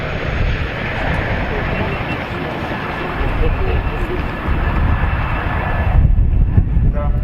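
A Chinook helicopter flying at the RAF Cosford airshow, a steady broad roar of rotor and engine noise that swells louder toward the end, with a commentator's voice over the public address running throughout.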